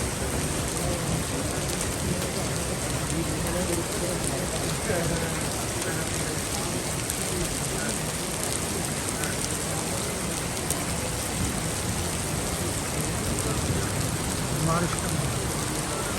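Heavy rain mixed with hail pours steadily at a hotel in Lahore, a dense, continuous roar of drops and pellets striking surfaces close by, with faint voices now and then beneath it.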